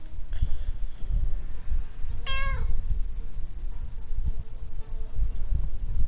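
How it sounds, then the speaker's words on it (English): A cat in the video game 60 Seconds! Reatomized gives a single clear meow midway through, set against a constant low background rumble with no talking. "Don't tell me we gotta feed the damn cat now"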